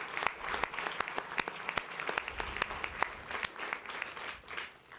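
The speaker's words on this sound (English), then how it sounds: "I would really like everybody just to give them a round of applause" An audience at a Huntsville city council meeting applauds, a dense, steady round of clapping from many hands that carries on throughout and tapers slightly toward the end.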